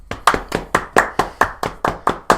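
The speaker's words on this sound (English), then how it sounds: "We're just gonna clap for everything today" Two show hosts clapping in a studio, about a dozen sharp, evenly spaced hand claps close to the microphone, steady rhythm with no talking.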